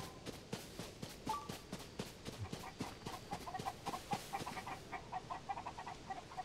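Chickens cluck repeatedly in Zelda: Tears of the Kingdom, a steady run of short, close clucks and rhythmic steps with faint game ambience behind them.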